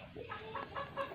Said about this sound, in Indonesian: Ini ayam dara.